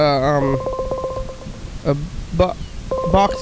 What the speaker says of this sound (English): I'm calling him again.